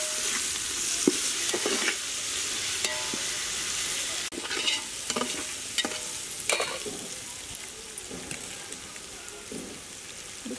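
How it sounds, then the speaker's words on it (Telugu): Onions with ginger-garlic paste fry and sizzle loudly in hot oil, stirred with scraping clicks throughout, a dense continuous crackle with no talking, for a village-style chicken biryani. "ఆనియన్స్ బాగా ఆయిల్ ఫ్రై చేసుకున్నాము. ఆనియన్ అల్లం వెల్లుల్లి పేస్ట్ వేసుకుందాం."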